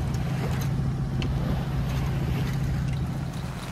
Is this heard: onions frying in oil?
no